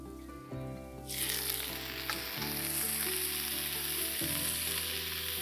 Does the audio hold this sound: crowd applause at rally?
no